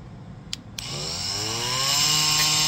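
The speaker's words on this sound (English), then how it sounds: "I'm going to use the YOB multi-tool" An oscillating multi-tool fitted with a standard blade cutting into a plastic battery case. Two sharp clicks come first, then a loud, close, steady whine that spins up and holds.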